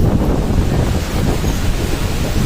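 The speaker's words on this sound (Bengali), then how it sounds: "এখনই প্রায় পঞ্চাশ থেকে ষাট কিলোমিটার বেগে ঝড়ো হাওয়া বইছে" Strong Cyclone Remal winds blow along the Bhagirathi river at Uluberia, a loud, steady roar of gusting air and rough water with no voices.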